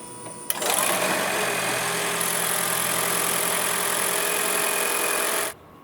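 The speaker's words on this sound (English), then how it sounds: "Now we need to start the engine and let the vehicle work for a few minutes." A 2019–2025 Toyota RAV4 Hybrid starts and runs steadily after an oil change, a constant, even engine hum following a brief click at the start, close and unbroken until it cuts off abruptly near the end.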